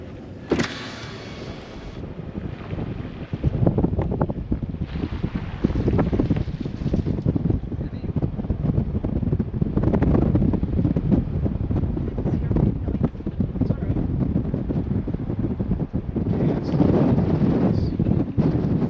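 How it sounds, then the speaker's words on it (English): Gusty wind roars and buffets the microphone steadily from inside a moving car, with road rumble underneath and a brief opening surge near the start. "It's very windy."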